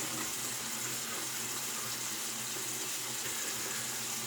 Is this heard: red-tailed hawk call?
no